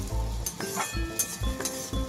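Lentils (dal) frying in a pan for a Bengali vegetarian dal, with repeated scraping stirs of a spoon and light clinks over a steady low sizzle, close and fairly quiet.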